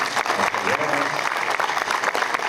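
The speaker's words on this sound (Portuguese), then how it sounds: "Solicitamos uma salva de palmas." Audience at a municipal technology event applauds after an engineers' presentation: a dense burst of clapping for a couple of seconds, with a voice briefly audible underneath.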